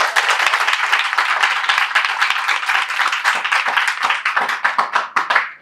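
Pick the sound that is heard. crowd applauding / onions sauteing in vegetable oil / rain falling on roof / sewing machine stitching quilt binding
crowd applauding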